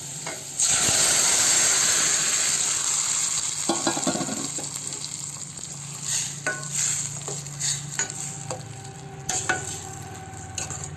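Dal being added and stirred in a pan over golden-fried onions, with a steady close sizzle and hiss, broken by scraping stirs and small clinks throughout.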